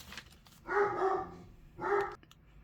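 A dog barks indoors, two drawn-out barks about a second apart, moderately close, with quiet background between them.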